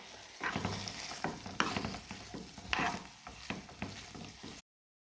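Minced meat and green pepper sizzling in a pan, with repeated scraping stirs over a steady fry, close and fairly quiet, then abrupt silence at the end.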